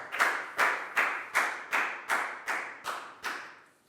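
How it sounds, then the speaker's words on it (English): Students in a Year 4 classroom clap together in a clear, even rhythm of about ten sharp claps, close and moderately loud, each one ringing briefly before the next. "High five and a big round of applause for Lakao."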